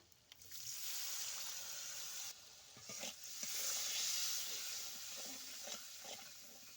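Water hits a pan of frying spice paste with cumin powder and bursts into a loud, close, hissing sizzle. The noise steadies into a sputtering simmer broken by stirring scrapes and clicks, and no one speaks.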